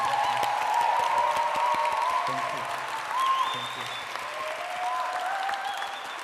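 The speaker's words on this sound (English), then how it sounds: "if you can give them an applause." Sustained audience applause at an awards event fills the room with dense clapping and some cheering, while a speaker briefly says thanks over it.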